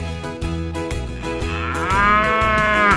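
Cartoon cow mooing over a bouncy children's song instrumental, the long moo swelling near the end above steady rhythmic backing.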